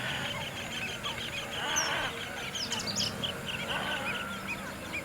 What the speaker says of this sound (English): The resident avians include the Indian river tern, the oriental darter, the Indian moorhen, the painted stork, and the various types of egrets and cormorants.